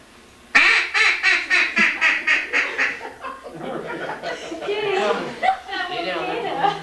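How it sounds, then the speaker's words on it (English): Ducks quack in a fast series of about ten loud, close calls at a waterfowl hunt, then give way to softer, overlapping quacks and chatter as birds come in around dawn. "3 o'clock, 4 birds coming in"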